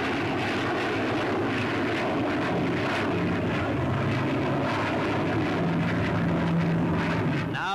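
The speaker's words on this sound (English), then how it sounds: "the very latest in jet bombers, the Victor, was there, making its first public appearance" A Handley Page Victor jet bomber passes overhead at a public display, a steady loud roar of engine noise holding for the whole stretch, with no one talking over it.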